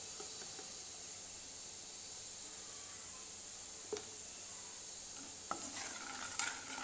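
Onions frying in oil with chili and turmeric powder added, a steady close hiss and sizzle throughout, with a couple of sharp stirring clinks near the end.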